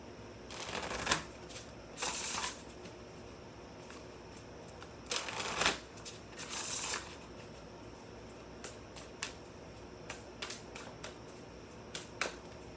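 Spellcasting oracle cards are shuffled close up in quiet surroundings, with several short riffling bursts followed by lighter, scattered taps and flicks as the cards are handled.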